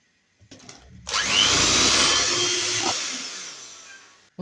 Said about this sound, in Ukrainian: Тепер нам потрібно це все збити. Я буду використовувати міксер.